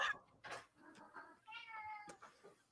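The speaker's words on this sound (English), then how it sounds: "Cat wants in, cat wants out." A black cat meows to be let in or out, giving several close, fairly quiet meows in quick succession, some drawn out and rising, with a sharp knock-like tap between them.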